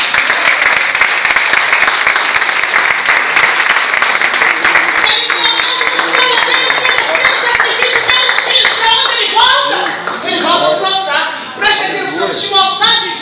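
A church congregation applauds loudly and continuously, dense clapping filling the room, while a preacher's voice carries over the last few seconds.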